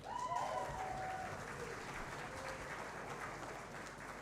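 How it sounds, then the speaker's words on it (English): An awards-night audience keeps clapping for a long list of office management finalists, a faint, even spread of applause heard from a distance. A brief whistle-like tone rises near the start. "So keep your applause going"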